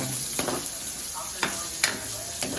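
Oil spatters and sizzles in a hot pan while frying, with a constant hiss broken by a few sharp pops, and a voice speaks briefly nearby.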